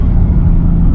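A Ford Mustang accelerates hard during a ride, with a loud, dense low engine rumble and roar that holds steady throughout from inside the car.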